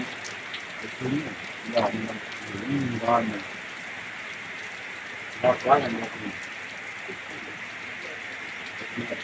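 Heavy rain pours onto a shelter roof at Wang Nam Khiao, a steady dense hiss throughout, while someone talks intermittently over it.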